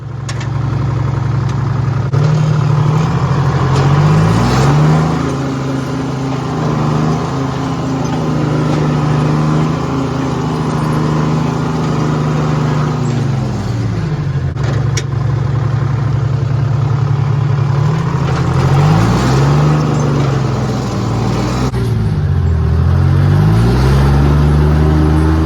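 A Timberjack 230E cable skidder's diesel engine runs steadily and loud up close, a deep throbbing drone that rises and falls in pitch several times as it revs and settles, with no talk.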